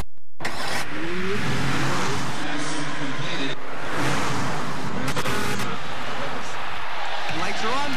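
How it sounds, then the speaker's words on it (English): An Acura car engine revs loudly and steadily rises in pitch, a strong close roar that fills the whole stretch. "Revs are coming up."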